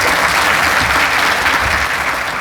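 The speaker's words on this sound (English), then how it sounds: "And for that, I want to give you all a round of applause." Audience applause at the Volapalooza 2019 event, a dense, steady wash of many hands clapping at close range, loud and unbroken for the whole stretch with no voices above it.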